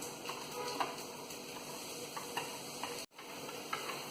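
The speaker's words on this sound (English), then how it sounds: "And mix them well." Watermelon lemonade with squeezed lemon juice and a pinch of salt is stirred in a glass or jug, faint close clinks and ticks of a spoon over a quiet background, with no talk.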